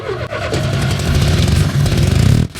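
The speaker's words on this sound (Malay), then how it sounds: "biar saya cuba hidupkan dan pandu kereta polis yang ditinggalkan itu" An abandoned police car found in a forest cranks and its engine catches, settling into a loud, rough, rumbling idle close by before cutting off abruptly.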